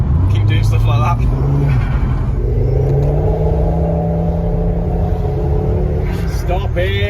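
A Volvo 850 T5 engine pulls hard while driving, its rising whine and rumble sweeping upward through the gears from inside the car, with people talking over it.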